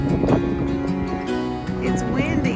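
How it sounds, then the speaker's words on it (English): Gusty wind buffets the microphone with a rushing roar while people talk close by. "It's windy, isn't it?"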